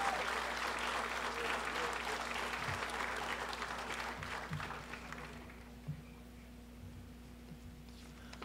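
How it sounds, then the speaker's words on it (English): Applause from the audience at a high school senior awards night, a broad wash of clapping that is loud at first and then thins out and fades over several seconds, leaving a few scattered claps over a low hum. "let's give them a hand of applause, as well as all of our students and their recipients."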